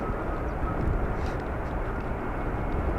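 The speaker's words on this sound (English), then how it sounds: "here is a little Airbus" An Airbus airliner arriving at Amsterdam Schiphol on a rainy, windy day makes a steady, broad engine roar, loud and continuous, with wind noise mixed in.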